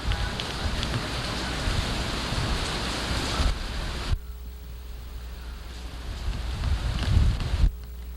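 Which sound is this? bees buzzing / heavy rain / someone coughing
heavy rain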